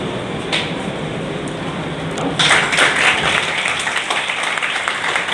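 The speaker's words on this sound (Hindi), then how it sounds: "बिना कहे ताली बजा दिए" An audience applauds at a NEET-2022 coaching class ceremony, a steady wash of many hands clapping that swells louder partway through and continues under a faint hum.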